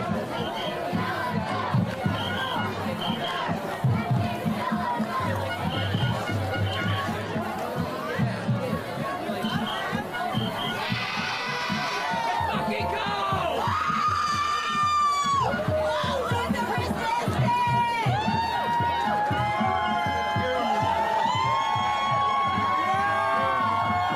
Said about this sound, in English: And they all cheer him on and shout, "Long live the resistance."